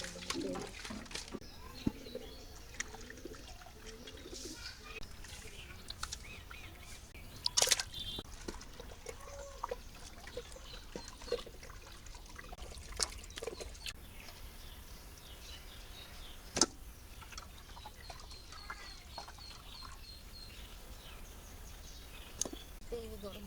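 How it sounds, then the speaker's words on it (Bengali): Rupchanda sea fish being washed with hot water: quiet, irregular splashes and drips with occasional sharper sloshes, fairly faint. "গরম পানি দিয়ে ধুয়ে নিলে মাছ যত ধুইবে অত মাছ মিষ্টি"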